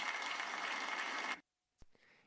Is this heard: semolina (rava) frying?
no